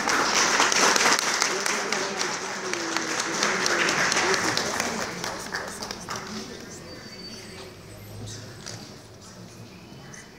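An audience at the Minister of Cultures and Tourism awards ceremony applauds the women artists of the Santa Cecilia Rehabilitation Centre. The clapping is loud and dense at first, then gradually fades, with voices speaking underneath.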